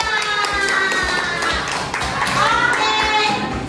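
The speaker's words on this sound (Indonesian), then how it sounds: "Tepuk tangan" In a classroom, children clap for the winning group, rhythmic clapping close by mixed with excited kids' voices and chatter throughout.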